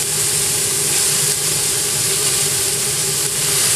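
Tomatoes hit a hot pan for a homemade sauce, giving off a steady, loud, unbroken hiss of sizzling that carries evenly throughout with no pauses.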